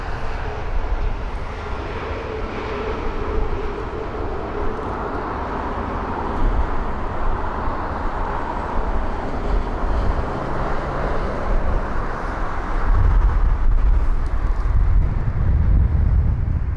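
A United Boeing 787-10 Dreamliner taxis slowly at London Heathrow, its engines a steady broad rumble with wind buffeting the microphone, swelling louder and deeper toward the end as the jet edges closer.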